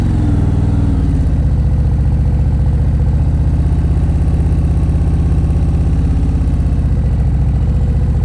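A motorcycle engine idles steadily in first gear during slow-speed practice riding, a loud close low rumble that holds evenly throughout with a slight shift in tone near the start, with no talking.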